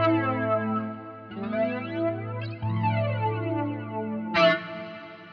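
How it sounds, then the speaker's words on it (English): Electric guitar played through a flanger pedal on a pedalboard, sustained chords with a sweeping, whooshing comb-filter swirl that rises and falls, a few chord changes and a bright strummed accent near the end, no talking. "So a flanger, how it sounds"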